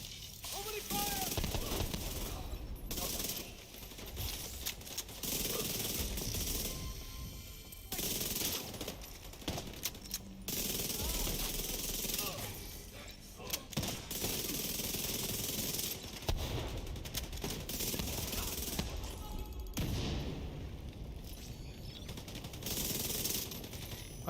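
Video game gunfire, bursts of automatic shots and scattered single cracks that come and go over a long stretch, with people talking under and between the firing.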